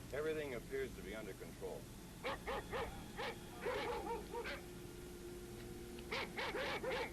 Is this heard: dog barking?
yes